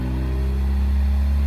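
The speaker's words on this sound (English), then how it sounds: "Get a little bit more of a gurgle on the way down when it's open because it's just straight all the way back" A Ford Focus ST with an electric exhaust cutout open and resonator delete rumbles and burbles nearby, a steady loud low-pitched exhaust drone with slight gurgling.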